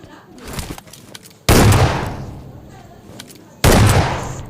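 Two loud, sudden bursts of gunfire in the mobile battle-royale game PUBG Mobile, each decaying over a couple of seconds, with quieter game sounds in between.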